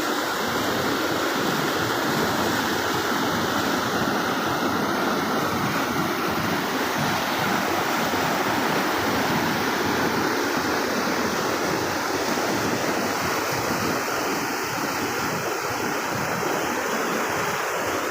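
A muddy river in full flood roars in a constant, loud, dense rush of water that fills the whole stretch without a break, with no voices.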